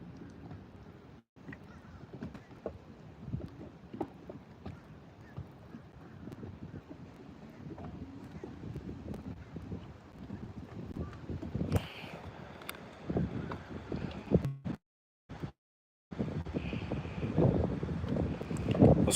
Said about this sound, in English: The wind is not my friend today.